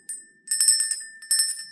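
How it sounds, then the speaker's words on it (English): A small cleansing bell rings three times, each bright metallic strike followed by a shimmering, sustained tone that decays between strikes, close and clear with no talking. "we'll use the cleansing bell."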